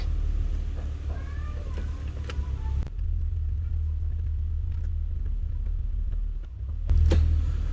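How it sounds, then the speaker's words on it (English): A 2008 Ford Mustang with a V6 and automatic transmission idles with a steady low rumble. A few sharp clicks and a brief cat-like meow sound early on, and a louder thump comes near the end. "I'm gonna be letting the car idle"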